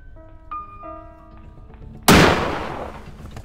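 A single loud gunshot in the horror video game Granny cracks out sharply after quiet ambient tones, its blast decaying over about a second.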